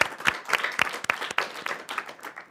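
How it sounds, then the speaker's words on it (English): Light audience applause after a panel talk at a marketing event, sparse individual claps with a few louder sharp hits, fairly close and brief. "Round of applause."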